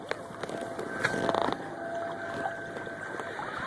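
A small boat motor hums steadily while cruising across a lake, a continuous mid-level drone with water and wind noise and a few faint tonal whines layered on top.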